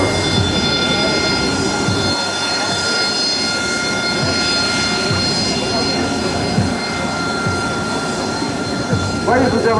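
An AV-8B Harrier II jet at an air show demonstration gives a loud, sustained engine roar with a steady high whine throughout, dominating the scene.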